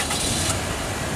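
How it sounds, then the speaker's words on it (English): A 1997 Toyota Corolla Spacio with an automatic gearbox runs steadily after starting, its engine giving a continuous, close, broadband idle hum with no pauses or voices. "Put a starter up so you can hear it running."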